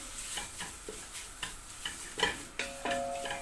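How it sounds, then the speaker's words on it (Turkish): Carrots and flour sauté in a pan for a carrot and mushroom cream soup, with a soft steady sizzle broken by light scraping stirs and occasional clinks of the utensil at close range. "Unla beraber az daha havuç kavrulsun"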